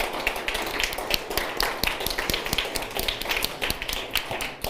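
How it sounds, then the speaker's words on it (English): Conference audience at a community meeting in Amsterdam applauding, a steady patter of many hands clapping at close range with no talk over it. "Please give also a round of applause to Antti Joki-Poikkola, Kai Kuikkaniemi"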